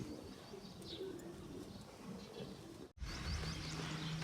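Soft pigeon coos repeat against a noisy outdoor background, with a brief dropout partway through before the cooing continues.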